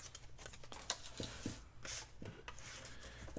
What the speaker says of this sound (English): I'm going to trim a little bit of the bottom off.